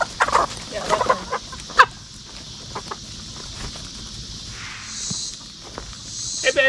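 Black Ameraucana chickens on a farm give several close, short clucks and calls in bursts, with light footsteps and rustling between them and no talk.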